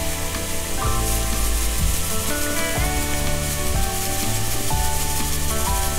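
Mutton frying in a pan, sizzling steadily and up close, with soft scraping and stirring knocks now and then and music playing underneath throughout.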